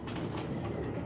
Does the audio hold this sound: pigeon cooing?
yes